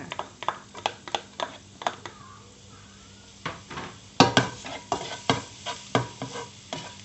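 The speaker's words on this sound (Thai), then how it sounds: "รอให้น้ำมันร้อนนิดนึงนะคะ จากนั้นเราก็ใส่กระเทียมสับลงไปเลยค่ะ" Minced garlic stir-fried in hot oil over medium heat, a steady sizzle under repeated loud scrapes and stirring clatters of a utensil against the pan, close by.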